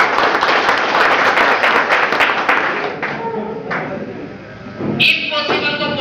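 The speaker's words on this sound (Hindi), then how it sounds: "इनके लिए पर जोरदार तालियां होनी चाहिए।" Loud applause from the audience at a leadership development program gathering in Hiranpur, strong at first and then fading, with a voice speaking over the latter part.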